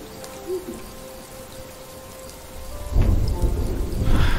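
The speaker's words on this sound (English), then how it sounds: "thunderstorms and rain" Thunderstorm with rain in the meditation game Playne: steady rainfall patters throughout, then a deep rolling thunder clap swells loudly near the end, followed by a second heavy rumble.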